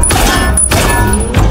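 A rapid burst of loud, booming gunshots, several fired randomly from inside a toilet stall, punches through a dense, continuous mix of movie action sound.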